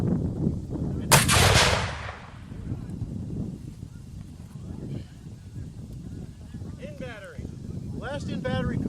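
Living history artillery demonstration with a cannon fired once, a sharp loud boom trailing into rumble, then people talking and geese honking in the background.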